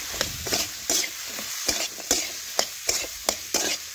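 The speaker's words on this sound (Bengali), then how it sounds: "এখন ভালোভাবে একসাথে মিশিয়ে বেশ কিছুক্ষণ ধরে আমি কষে নিচ্ছি" Ridge gourd and potatoes being stir-fried in a pan, with a spatula scraping and clattering in repeated strokes over a steady sizzle, close and moderately loud.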